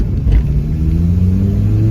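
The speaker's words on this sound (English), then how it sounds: "let's do an acceleration run" A tuned Polo GT TSI with a Stage 3 tune of 170 HP accelerates hard in sport mode, its engine note rising in steady harmonic sweeps, close and loud with no talk over it.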